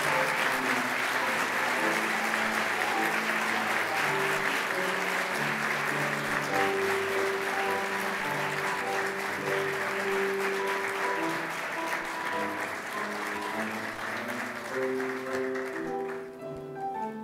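Sustained applause from a sizable audience at a university flag-bearer ceremony, steady and even throughout, fading slightly at the very end.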